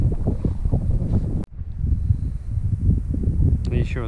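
Steady outdoor wind rushes and buffets across the microphone, with a brief dropout partway through and faint rustling near the end.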